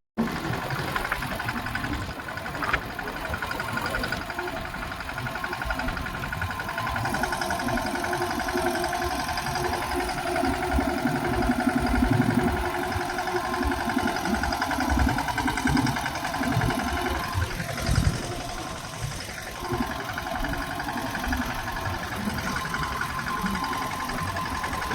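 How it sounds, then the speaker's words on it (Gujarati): A repaired tractor engine runs steadily at idle, close and loud, a continuous low rumble with a slight knocking vibration throughout. "ટ્રેક્ટર થઈ ગયું બાદ ચાલુ."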